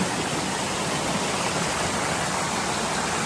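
Mini waterfall on a slippery hillside trail in Brgy. Napsan: a steady, dense rush of falling water fills the whole stretch at an even, close level with no talking over it.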